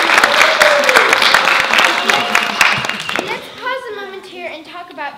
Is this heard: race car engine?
no